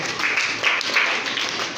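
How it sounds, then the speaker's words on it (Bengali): A class of primary school children clap their hands together for a classmate during a Bangla lesson, a dense, steady patter of many hands with no clear pauses. "ধন্যবাদ ওর জন্য একটা হাতে তালি জোরে"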